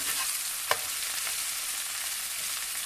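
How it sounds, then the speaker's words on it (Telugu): Green chillies and onions sizzle in a pan, a steady soft crackle of frying oil heard up close, with one brief clink near the start and no talk. "పచ్చిమిర్చి ఉల్లిగడ్డలు అన్నీ కూడా చక్కగా వేగినవి"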